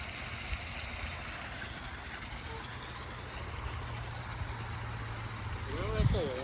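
Irrigation water flows into a crop plot in a Chinese village, a steady faint rushing hiss with a low engine-like hum underneath throughout.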